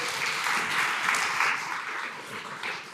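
Audience applause at the opening of a circular economy forum in Latvia, a dense sustained wash of clapping from a seated crowd, steady and moderately loud throughout.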